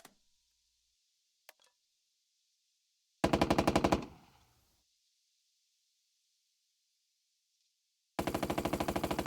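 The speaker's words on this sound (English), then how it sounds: "There's some shots coming back." Automatic weapons fire in the WWII turn-based video game Burden of Command, with two loud rapid machine-gun bursts separated by near silence and a faint tick early on.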